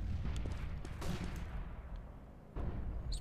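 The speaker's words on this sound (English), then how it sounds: "Grenade, oh my god!" A grenade blast in Counter-Strike: Global Offensive lands among loud bursts of in-game gunfire, a sharp explosive hit near the start followed by rumbling decay and another heavy impact near the end.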